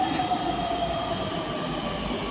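A metro train runs through a Pune metro station, a loud steady rumble with a faint high squeal of wheels and a sustained tonal whine, with no voices over it.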